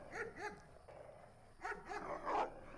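Several dogs barking in the Wolf Simulator video game: two quick barks, a pause, then another cluster of barks and yips, moderately close at steady loudness.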